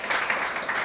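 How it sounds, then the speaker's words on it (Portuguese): Brief burst of congregation applause during a family church service, a dense wash of clapping with no talk. "Aplauda o Senhor mesmo."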